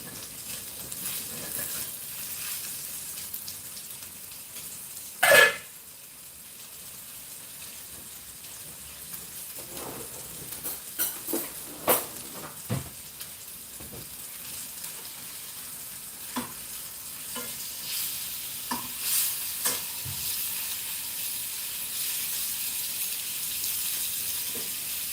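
Chicken sears in a hot pan for a Greek chicken salad, giving a soft, steady sizzle with scattered pops and clatters.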